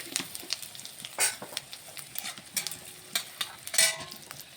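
Whole spices frying in oil with a little ghee for a raw jackfruit curry, a soft steady sizzle with scattered sharper crackles and stirring clinks, close and fairly quiet with no talk.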